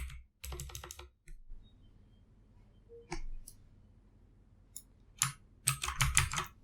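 Keys clatter on a computer keyboard as a command is typed at a Windows command prompt, in short quick bursts separated by pauses, close and crisp.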